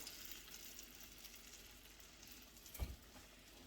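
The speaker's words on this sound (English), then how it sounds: "Can you hear that sizzle?" Steady, faint sizzling and crackling of chicken frying in sauce in a pan, with a brief soft knock near the end.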